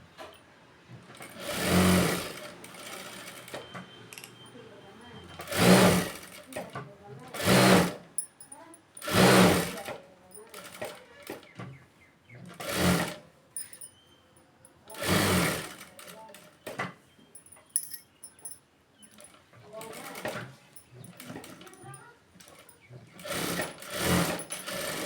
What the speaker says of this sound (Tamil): இந்த கழுத்தை சுற்றி இந்த லைனிங்கை சுற்றிலும் தையல் போட்டு கட் பண்ணிடுங்க